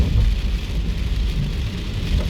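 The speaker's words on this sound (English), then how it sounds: "the rain starts to fall a little more heavily now" Steady, heavy rain pours down outdoors in East Las Vegas, a dense continuous wash of low rumbling noise with no voices.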